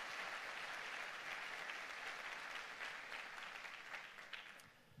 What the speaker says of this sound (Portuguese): Você pode aplaudir isso, é lindo demais.